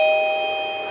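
An Aventech doorbell chime sounds once after the button is pressed, a clear, steady electronic tone held at a loud, even level and fading only slightly over under a second.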